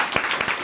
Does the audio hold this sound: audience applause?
yes